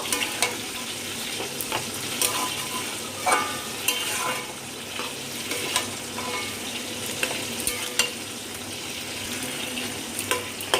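A spatula scrapes and stirs a mixed vegetable curry with Malabar spinach and hilsa fish head in a pan over high flame, with oil sizzling steadily beneath repeated clanks and scrapes, close and clear.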